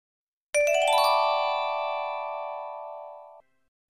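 A cell phone ringtone sounds once, a bright electronic chime with a sharp onset that rings steadily for about three seconds and then cuts off cleanly, heard alone against silence.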